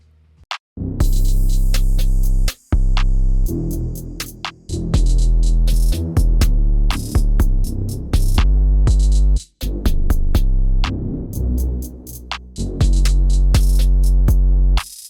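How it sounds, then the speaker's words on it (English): A loud hip-hop drum beat in an ambient rap style with booming, sustained 808 bass, crisp hi-hats and snappy hits in a steady groove, pausing briefly a few times. "So then all the drums together with the 808 sounds like this."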